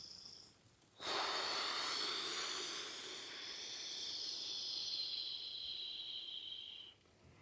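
A long, steady hissing exhale during qi gong breathing practice, a loud breathy rush of air that starts abruptly and holds for about six seconds before trailing off, with no talking.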